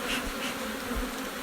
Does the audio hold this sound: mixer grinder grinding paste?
no